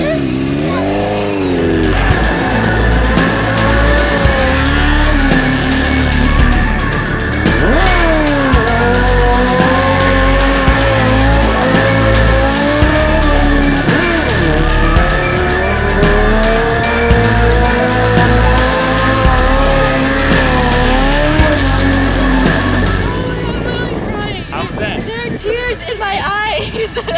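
Motorcycle engine revving during a wheelie stunt with a passenger aboard, loud rising and falling engine pitch sweeps repeating over a steady drone, with people talking over it.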